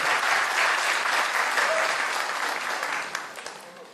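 Dense, sustained applause from an audience at a Guinean independence anniversary celebration in Manchester, loud and even at first, then thinning slightly toward the end.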